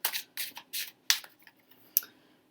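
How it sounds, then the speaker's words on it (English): Tarot cards are shuffled by hand nearby in a quiet room, giving several short, crisp riffling bursts in a loose rhythm, followed by softer taps and one sharp snap. "I'm going to go ahead and just shuffle these off camera."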